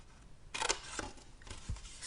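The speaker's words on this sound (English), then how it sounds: "Then cut up the middle" Scissors snip through card along a score line in a few quiet, close crisp cuts spaced about half a second apart.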